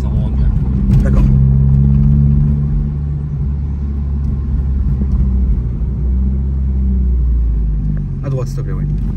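A car fitted with a full 76 mm M Performance exhaust line rumbles and revs with a deep, steady low drone throughout, swelling briefly at moments, while people talk over it.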